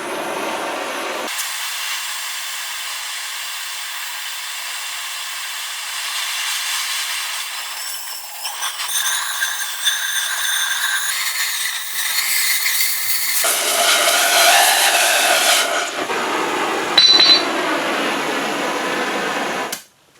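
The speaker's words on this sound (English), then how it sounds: "I'm just going to cut it off with a torch" Thick metal is cut with a torch while building a pedestal for a buffer, giving a continuous roaring hiss for about twenty seconds. The hiss grows harsher and louder partway through and ends in an abrupt cutoff.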